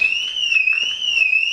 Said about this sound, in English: That's the alarm on my car.